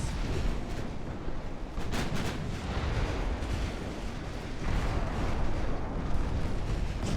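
Deep rumbling naval gunfire from warships in Ultimate Admiral: Dreadnoughts, a dense booming wash of salvos that rolls on continuously with heavy low-end thuds swelling and fading.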